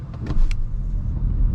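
A 2024 Audi Q4 e-tron electric car pulls away hard from a stop, a steady low road and motor rumble swelling briefly with a faint whine, heard from inside the cabin with no talking.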